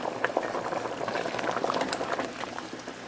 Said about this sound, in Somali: suugadeeni waatana way noo qartay